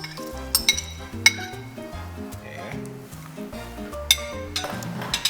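Metal cookware and a pot lid clink sharply several times in a home kitchen as a healthy dish with dried tofu is set to boil, the bright clanks scattered over a bed of background music.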